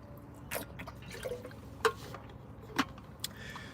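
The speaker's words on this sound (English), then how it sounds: "just drop some water all over my shirt" Water dripping onto a shirt: a few faint, separate drops land with soft taps over a quiet background.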